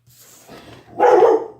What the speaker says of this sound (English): Uh-oh, dogs.